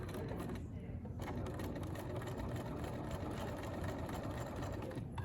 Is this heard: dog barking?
no